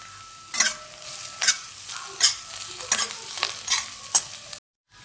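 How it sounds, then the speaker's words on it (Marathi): Chopped onion frying in oil in a pan for paneer bhurji, with a soft steady sizzle broken by repeated scraping stirs of a spatula every second or so. "आता लाल होईपर्यंत चांगला कांदा भाजून घ्यायचा."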